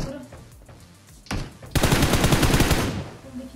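Gunfire from shooting bots in the PUBG Mobile game, a short burst then a sustained rapid automatic volley lasting over a second, loud and close, with faint game ambience around it.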